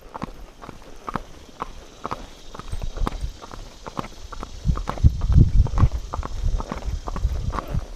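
Horse hooves clip-clopping at a steady walking rhythm while the horse is ridden along the way to a Baptist church, close and moderately loud, the steps growing heavier and fuller toward the end, with no one talking.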